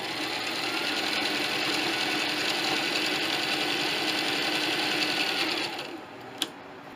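A sewing machine runs steadily, double stitching the end cap of a DIY ridgeline organizer, a close, continuous mechanical whir for about six seconds before stopping, followed by a single sharp click.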